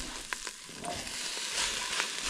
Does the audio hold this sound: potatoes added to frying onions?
yes